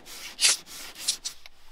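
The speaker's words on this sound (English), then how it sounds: "I'll finish sanding this inside." A sanding block is rubbed over a dented car body panel during dent repair: a few short, close, dry scraping strokes in uneven rhythm, separated by brief pauses, with no talking.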